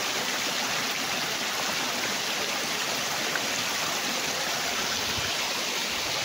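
A mountain stream in Palawan rushes steadily, a loud, even, continuous wash of flowing water heard up close with no voices.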